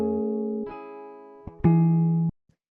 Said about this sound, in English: you can hear it just sounds like very dry and kind of just like a clean guitar recorded into a computer